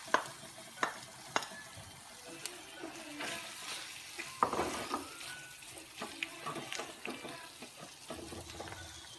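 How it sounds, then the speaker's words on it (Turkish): Potatoes added to pre-fried onions in a pan, a quiet sizzle broken by clicks, scrapes and stirring clatter at an uneven pace, with no voices. "Əvvəlcədən qızartdığım soğanla beraber kartofu əlavə edirəm."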